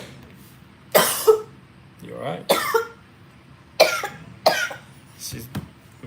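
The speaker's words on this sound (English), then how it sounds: "We've got this cough going around" Several separate coughs, loud and close, come in short bursts spread across the moment. A voice briefly asks a quick question between them.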